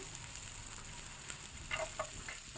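Finely chopped onions and green chillies frying in hot oil in a pan for gobi manchurian, a steady close sizzle with a few crackling pops toward the end.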